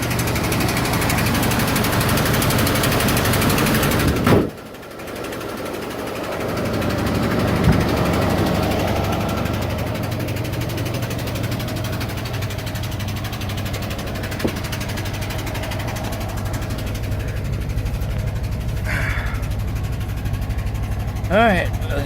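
A 1982 Ford F150 engine idling high, a steady low rumble running throughout, with a brief dip near the start and a person talking over it.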